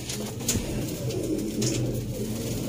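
Sialkoti pigeons cooing steadily in a low, throaty murmur, several birds overlapping close by with a soft continuous rustle behind them.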